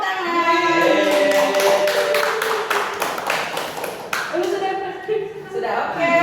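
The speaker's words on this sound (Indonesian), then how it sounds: "Oke, tepuk tangan." Students in a classroom applaud, with dense rapid clapping that rises over a few seconds and then fades, while a voice and tonal sounds carry on underneath.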